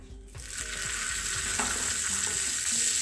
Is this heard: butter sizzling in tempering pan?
yes